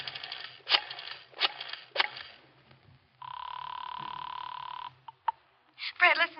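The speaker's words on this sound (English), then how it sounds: "I dialed 7 times." A telephone dialed seven times in a row in an old-time radio drama: a run of rapid mechanical clicks from the rotary dial, then a long steady buzzing tone, a few short clicks, and a brief warbling sound, with no voices.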